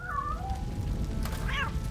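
A cat meows in the game RoboCop: Rogue City, giving a couple of faint, short, plaintive calls over a low steady game-ambience rumble, with no talk.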